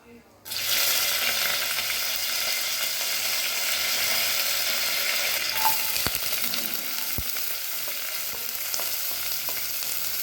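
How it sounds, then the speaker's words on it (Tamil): Shallots, crushed garlic and curry leaves hit hot oil with a sudden burst of sizzling after a brief quiet start, then a steady loud crackle with occasional sharp spatula knocks and scrapes. "சின்ன வெங்காயம் கொஞ்சம் வதக்கி எடுத்துக்கலாம்"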